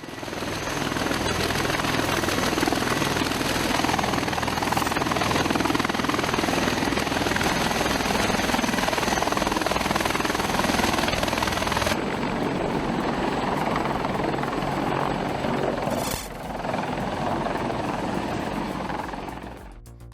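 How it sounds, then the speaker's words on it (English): An MH-60R Seahawk helicopter launching from a ship's flight deck, rotor noise pounding loud and close for about twelve seconds, then shifting and thinning, a steady heavy whir continuing to the end. "the officer of the deck ordered the launch of an MH-60R Seahawk helicopter from"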